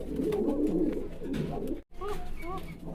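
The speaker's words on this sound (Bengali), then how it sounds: "প্রত্যেকটা কবুতর অনেক অ্যাক্টিভ।" Racer and fancy pigeons coo at a farm, their soft, throaty, rolling calls repeating close by with a brief pause partway through.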